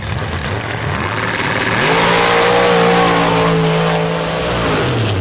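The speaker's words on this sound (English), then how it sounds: "they can burn a lot of fuel to make the most horsepower coming off the line" Drag racing cars launch hard off the line at a championship round on a track, engines roaring loud and close, rising in pitch as they accelerate away, with no talk over the noise.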